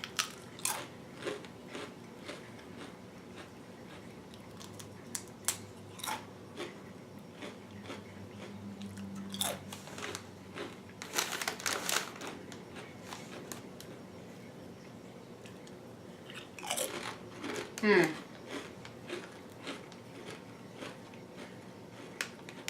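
Repeated crisp crunching bites and chewing of a Subway sandwich close up, irregular crackles scattered over many seconds, with no talking.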